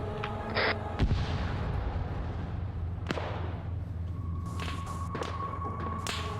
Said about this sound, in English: You got some shots coming from up there.